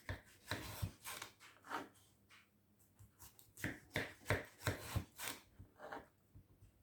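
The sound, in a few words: knife slicing melon into sections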